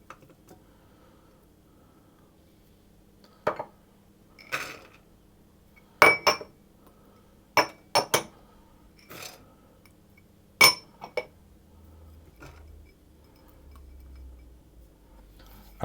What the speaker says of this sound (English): the first thing I'm going to do is to soak my fruit. And to do that I'm going to put the fruit into a saucepan